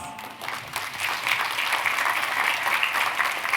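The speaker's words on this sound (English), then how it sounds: "so round of applause" An audience at a mindfulness-as-therapy talk breaks into applause, a dense, steady patter of clapping that swells after a quiet start and holds for several seconds.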